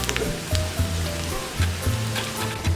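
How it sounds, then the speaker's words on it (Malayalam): Ghee heating in a pan, ready for frying onions, raisins and cashews, a close crackling sizzle with soft clatters and a faint tonal background layer. "നമുക്ക് സവാളയും മുന്തിരിയും അണ്ടിപ്പരിപ്പും പൊരിച്ച് പോരാനുള്ള നെയ്യ് ഒഴിച്ച് കൊടുക്കാം"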